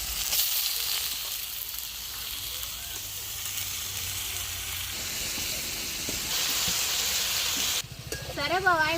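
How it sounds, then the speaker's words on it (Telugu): Goat tripe fries in oil with onions and ginger-garlic paste, a loud continuous close sizzle with stirring, and a voice briefly at the end. "మొత్తం అయితే బాగా ఒక ఐదు నిమిషాలు అయితే ఆయిల్ ఫ్రై చేసుకున్నట్టుగా అయితే మొత్తం తాలింపు వేసేసుకున్నాం"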